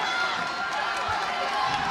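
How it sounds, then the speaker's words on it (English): Boxing crowd at the Bayou Event Center in Texas cheering and roaring as a fight heats up, a broad continuous din of many voices filling the hall under steady close commentary speech. "you can hear the crowd here starting to get lit up at the Bayou Event Center"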